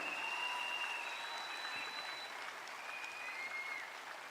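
Sustained applause from a crowd at a training program in India, a dense steady patter of clapping that holds loud throughout and eases slightly near the end.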